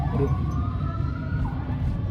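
A fire truck siren wails steadily at a distance inside Intramuros, Manila, its tone sweeping up and down over a constant low rumble of traffic or engines.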